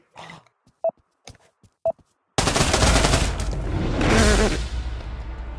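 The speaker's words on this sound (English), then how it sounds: "I think that was a gun." Sparse faint clicks and handling taps give way to a loud, sustained burst of automatic gunfire in the VR shooter Pavlov VR, dense and close for several seconds.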